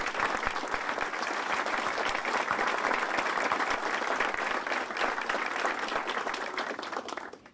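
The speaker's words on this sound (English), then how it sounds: "please stand to be recognized and get a round of applause from everybody" An audience applauds local board members at a Positive Coaching Alliance coaches' coffee gathering in Chicago, with dense, steady clapping that holds evenly for several seconds before tapering slightly at the end.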